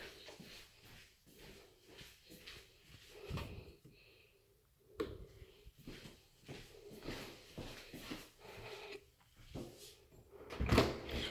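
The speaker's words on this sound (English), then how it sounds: "So I'm going to walk out the door." A house door is handled as someone walks out, with quiet shuffling footsteps, a knock of the latch and soft bumps spread over several seconds.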